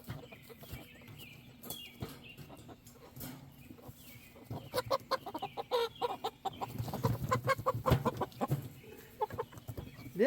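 Roosters and hens cluck and squawk inside a coop where an old and new flock are being mixed, scattered calls building busier and louder toward the end, with almost no talking.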